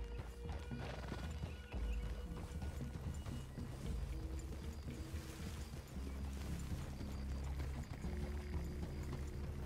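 Horses in the video game Red Dead Redemption 2 clop steadily over the ground with a whinny and snorts, mid-distance hoofbeats in an uneven rhythm over a low outdoor ambience.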